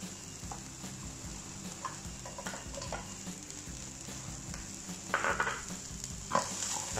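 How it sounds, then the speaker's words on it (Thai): Frozen vegetables stir-frying in a pan for Mama instant noodles, a quiet continuous sizzle with intermittent spatula scrapes and a louder burst of crackling near the end. "แล้วก็ผัดให้ผักแช่แข็งของเราเนี่ยนิ่มตัวลง"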